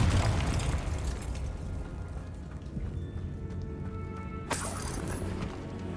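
A Confringo blasting curse explodes in Hogwarts Legacy: a deep boom rolls out at the start and fades, then a sharp second burst cracks out near the end over a low, rumbling background.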